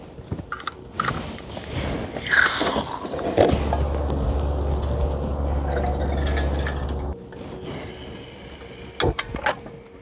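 Water pours steadily for about three seconds into a pot to make tea at a tent campsite in a jungle, with scattered clattering and knocks of camping gear before and after.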